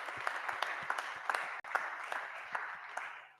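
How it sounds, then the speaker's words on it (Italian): An audience applauds Nelly Silvestri at a live event with a full, continuous round of clapping. Occasional louder thuds stand out, and the sound breaks off for an instant midway before tapering toward the end. "Un applauso per Nelly Silvestri"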